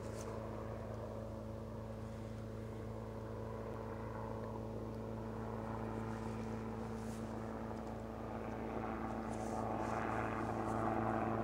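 A propeller plane drones overhead, a steady low engine hum that slowly swells louder as it passes, with no talking.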